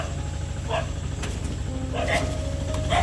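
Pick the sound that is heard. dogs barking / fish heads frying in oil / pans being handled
dogs barking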